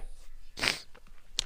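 A single sneeze bursts out around the middle, a sharp breathy noise at moderate volume, with quiet room tone before and after and no talk.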